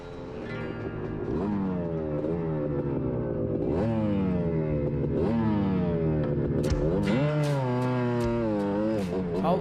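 Yamaha dirt bike engine revving through repeated rising and falling gear shifts as it rides a lap, loud and continuous with a sustained buzzing tone and occasional higher-pitched throttle bursts.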